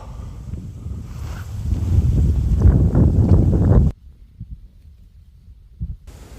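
Wind buffeting a microphone at a freshwater fishing spot beside cattail reeds, loud rumbling gusts for several seconds that then cut to a quiet stretch with faint bumps.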